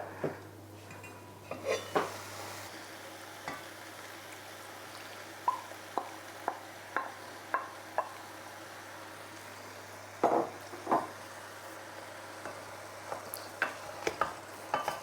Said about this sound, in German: Vorsichtig rühren, damit das Gemüse nicht kaputt geht